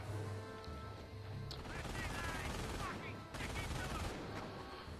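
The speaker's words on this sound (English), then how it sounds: "Oh, and they're shooting mortars at us?" Mortar and machine-gun fire in the Company of Heroes war game, with dense rattling bursts, sharp impacts and crashes layered over rumbling battle noise, while someone talks over the gunfire.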